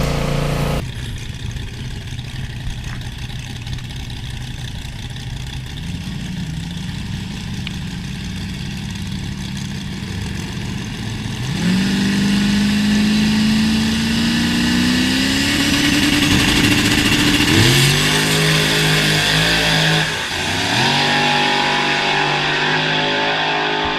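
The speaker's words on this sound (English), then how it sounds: "Miguel just made another pass in the red car" A red drag racing car makes a pass down the strip, its engine first idling low and steady, then revving up in long rising sweeps with gear-change dips, loud and close with no talk.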